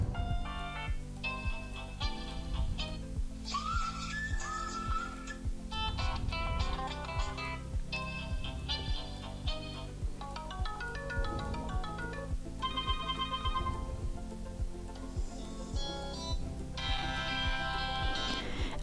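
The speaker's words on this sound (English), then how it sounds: "And here we have some ringtones." Short ringtone previews play one after another from an Emporia tablet speaker, a series of different chiming melodies and electronic jingles, each cut off as the next begins, clear and close.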